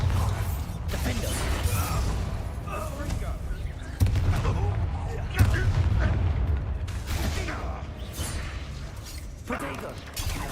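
Spell-casting explosions from the Hogwarts Legacy video game boom and crackle in dense, loud bursts over continuous battle noise, while a voice calls out spell names throughout.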